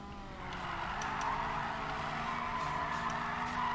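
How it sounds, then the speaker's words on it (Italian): A Nissan 180SX in Need for Speed Payback revs its turbo engine, with a sustained, steady engine drone and layered harmonic whine holding at moderate loudness throughout and no talk. "Sentite il suono. Attenzione, c'è lo sfarfallio della turba."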